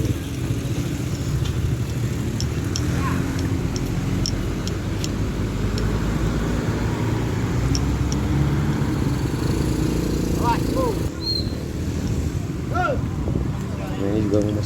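Heavy traffic of cars and motorcycles crawls along a congested road, a steady mix of idling engines and passing motors with a few faint horn-like chirps, while someone talks over it.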